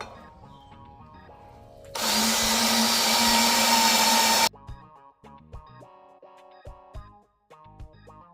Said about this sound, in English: Couple more left to drill.